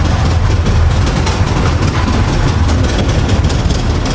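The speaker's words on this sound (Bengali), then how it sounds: "Engine, main diesel engine, diesel engine." A submarine's main diesel engine runs with a loud, steady, low droning rumble that stays constant throughout, heard up close inside the vessel.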